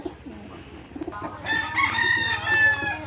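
Chickens clucking softly in hot weather, then a rooster crows loudly and close, its long call ringing out over the flock.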